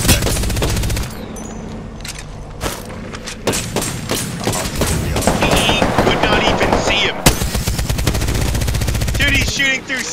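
Rapid gunfire bursts from a video game shooter, loud and dense with repeated automatic fire and sharp shots through most of the stretch, with brief pauses between volleys.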